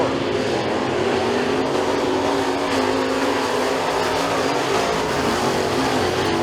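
Race cars roar through the turns at McKean County Raceway during heat races, a dense, continuous engine din heard from a distance with broad crowd-level noise and no clear breaks.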